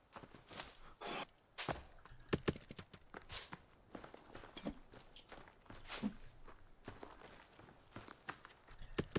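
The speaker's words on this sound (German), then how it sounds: "ich höre auch die ganze Zeit diese Schritte" Footsteps in the video game The Forest: a string of soft irregular steps patter near and faint over a constant high insect chirr and low woodland ambience.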